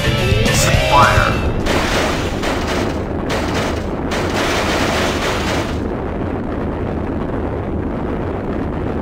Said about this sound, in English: Missile launch in 15 seconds